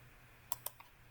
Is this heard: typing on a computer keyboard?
yes